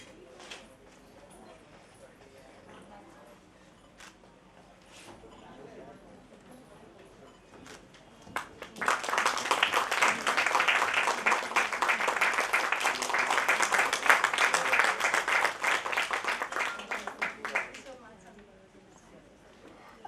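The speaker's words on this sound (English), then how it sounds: "I think you require bigger applause than anyone else" An audience at an awards ceremony breaks into loud, sustained applause for about nine seconds, then it fades away. Someone speaks over a microphone before and after.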